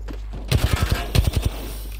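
Rapid bursts of gunfire in Apex Legends, two quick volleys of about five shots each, loud and close after a quiet start.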